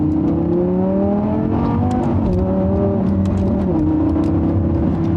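A Lamborghini Gallardo is driven over a bumpy road, its engine droning loud and close with a steady tone that shifts pitch a few times, and faint knocks and thumps sit over the continuous roar.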